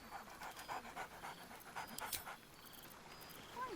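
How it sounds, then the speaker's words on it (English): Dog companion in the video game Baldur's Gate 3 panting rapidly and rhythmically, soft and close, with faint whimpering and no speech over it. "Scratch barks merrily in something like agreement."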